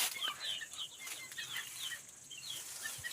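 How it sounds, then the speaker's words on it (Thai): Small chicks cheep in a rural rice-field setting in Laos, giving thin, high, repeated chirps close by over light background noise, with no talk. "ลูกไก่น้อย"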